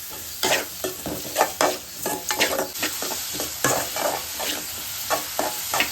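Onions sautéing with rock salt in a pan for an egg gravy, a steady close sizzle broken by repeated scraping stirs of a spoon against the pan, no voices.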